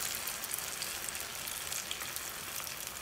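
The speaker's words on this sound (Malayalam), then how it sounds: "ഇനി നമ്മൾ 1 പാത്രത്തിൽ എടുത്തു വെച്ച മുട്ടയുടെ മിക്സ് ഞാൻ ഇതിലേക്ക് ഇട്ട് കൊടുക്കുന്നുണ്ട്" Egg mixture frying in coconut oil in a pan, a soft steady crackling sizzle throughout, close and fairly quiet with no talking.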